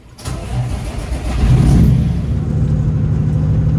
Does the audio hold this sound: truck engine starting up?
yes